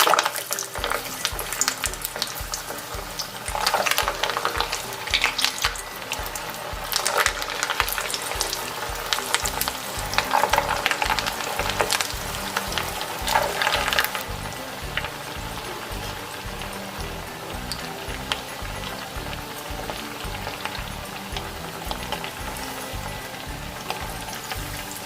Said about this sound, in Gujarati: તેલ અહીં આપણું ગરમ થઈ ગયેલું છે। આપણે એક પછી એક કટલેસ એડ કરતા જઈશું